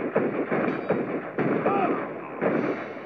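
Cannon fire in the video game GUN: repeated heavy blasts and rumbling in-game combat noise, moderately loud, spread across a few seconds with a steady noisy background.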